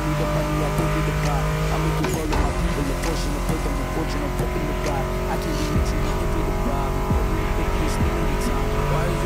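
A Ford Mustang muscle car engine in The Crew Motorfest racing game roars and revs loudly under a thumping music track, with a sharp burst and tire noise near the start and someone talking over it.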